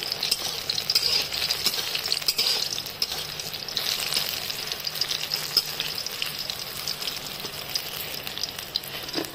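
Eggplant (brinjal) slices fry in a pan with a busy, even sizzle and crackle, heard close and fairly soft for several seconds with no talking.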